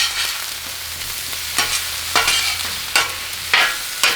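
Shaved sirloin or ribeye cheesesteak meat sizzling on a Blackstone griddle top, a steady frying hiss punctuated by several sharp scraping stirs of a spatula at regular intervals, with no talking.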